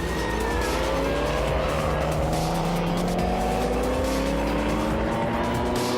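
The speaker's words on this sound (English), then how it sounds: "We see Stefan Pushaves battle to keep control of his Porsche after his evasive action to avoid any contact." Porsche race car on a circuit, engine straining through gliding pitch sweeps with squealing, skidding tyres as the driver fights for control after evasive action, loud and close throughout with no talk.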